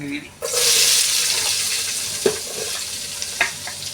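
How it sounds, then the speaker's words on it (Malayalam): Sliced onions frying in a pan until brown for a home-style Kerala curry, a loud steady sizzle starting after a brief pause, with occasional stirring scrapes and clicks close by. "സവാള ഒരു ബ്രൗൺ പരുവാവുന്നിടം വരെ മൂപ്പിക്കുക."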